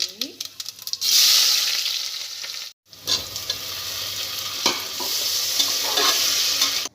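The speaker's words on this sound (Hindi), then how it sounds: "ऑयल मैंने चढ़ा दिया, तो साथ में थोड़ा सा गरम मसाला डालूँगी, अच्छे से भुनाती हूँ" Garam masala frying in hot oil while being stirred in a home kitchen pan, a steady close sizzle with scraping stirs, briefly cut off near the middle before resuming.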